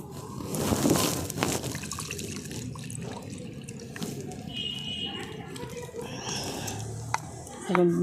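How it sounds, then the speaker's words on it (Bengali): Mixer-grinder jar rinsed at a kitchen sink and water added to thin a chutney: a rushing splash up front, then low running, trickling water, with a voice faintly present. "এখন মিক্সির জারটা ধুয়ে আমি আর একটু জল দিয়ে একটু পাতলা করে নিচ্ছি।"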